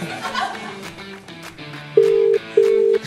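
Phone call ringing through, two steady electronic ring tones, each lasting about half a second with a short gap between, clear and loud over faint background chatter and laughter.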